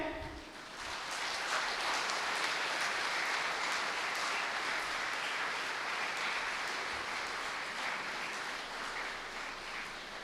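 Audience applauding at a campus welcome event at Amrita University's Nagercoil campus, a dense, sustained wash of clapping from a large crowd that holds steady for about ten seconds.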